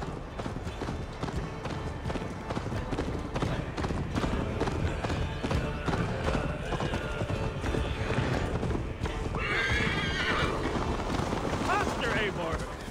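In Assassin's Creed Valhalla, a horse gallops with steady clip-clop hoofbeats under game music and effects, and voices speak over it. Near the end a neigh cuts through.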